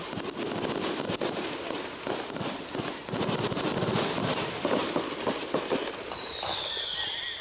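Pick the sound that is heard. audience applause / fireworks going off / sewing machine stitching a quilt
fireworks going off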